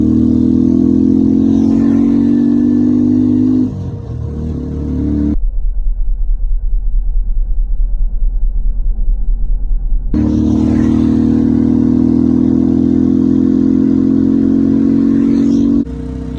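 A new loader vehicle's engine runs loudly and steadily close by, starting without a kick, with a drop to a low idling throb in the middle before the revving drive resumes.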